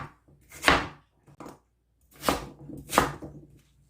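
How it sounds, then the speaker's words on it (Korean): A knife chops an old, bland radish into rough chunks for a broth. Three or four distinct, close thuds hit the cutting board at uneven intervals, with small taps between them. "무가 이제 맛이 없어요. 그래서 이걸 반찬을 하기는 그래서 이걸 뚝뚝 잘라서 얘도 육수에 넣을 겁니다."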